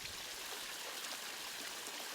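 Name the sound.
water flowing down a built backyard pond waterfall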